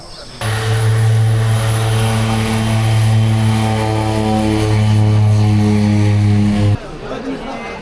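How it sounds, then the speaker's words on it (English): Propeller aircraft at Ramechap airport in Nepal, a loud steady multi-tone drone held close by for several seconds before cutting off abruptly near the end, with talk in the background. "So we are right now in Ramechap airport and we are waiting for our flight."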